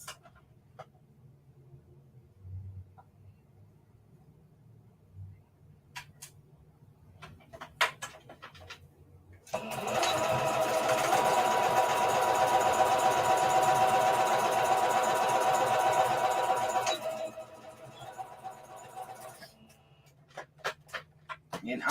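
A sewing machine stitches a straight seam on a bucket hat in one steady, loud run lasting several seconds, with quieter clicks and handling sounds before and after it.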